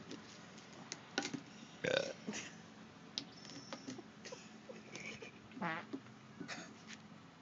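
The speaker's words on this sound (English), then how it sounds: "that's my camera lady farting and burping" Burping and farting sounds from a woman behind the camera, several short low bursts scattered over background noise, with a louder belch-like burst near the two-second mark.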